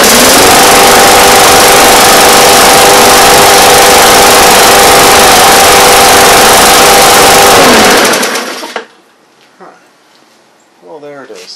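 A Briggs & Stratton small engine, previously stuck and seized, runs loud and steady for about eight seconds with a constant droning hum, then cuts out abruptly, leaving quiet room noise and a brief voice near the end.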